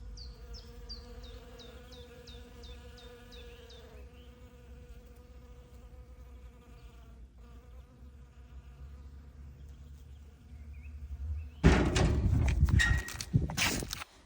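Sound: bees buzzing around flowering tree

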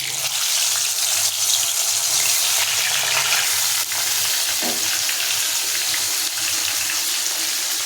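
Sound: Bhola fish pieces frying in hot mustard oil

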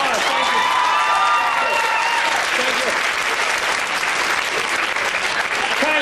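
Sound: audience applause

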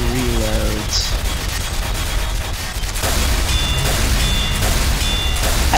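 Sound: gunfire in video game Team Fortress 2

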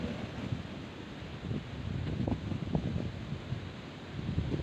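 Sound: wind blowing at an outdoor fishing spot

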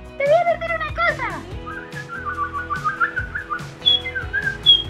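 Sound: person whistling

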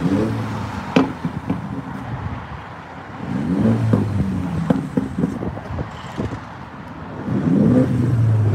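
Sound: car engine revving

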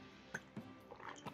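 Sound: sipping water

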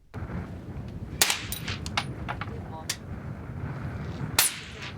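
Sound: rifle gunfire at shooting practice

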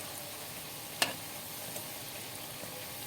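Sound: lentil fritters (dal bora) frying in a pan

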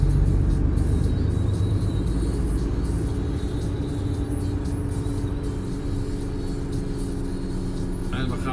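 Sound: truck driving on an industrial estate

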